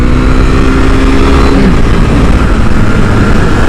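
A KTM RC390 motorcycle pulls out of a corner on a back road, its loud, steady engine drone close by and mixed with wind rush, and the pitch shifts only slightly.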